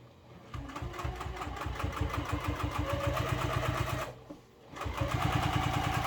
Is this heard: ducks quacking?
no